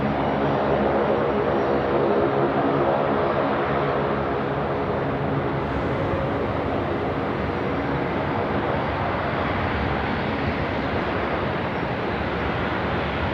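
A Cathay Pacific Boeing 777-300 taxiing at Sydney Airport, a continuous loud jet engine roar and whine that holds steady throughout with no other sounds standing out.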